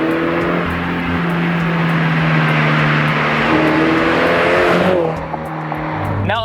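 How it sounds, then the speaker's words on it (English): A modified 2022 Subaru BRZ fitted with an ARC Performance catback exhaust drives hard, its engine droning loud and steady with rising and falling pitch, then easing off near the end before building again. "the first upgrade, which is a catback exhaust by ARC Performance."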